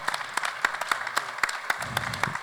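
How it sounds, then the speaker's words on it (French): An audience at a metropolitan governance round table claps: a thin, brisk patter of individual hand claps in an irregular rhythm, moderately close and without speech, with a brief murmur near the end. "applaudissez-les très très fort."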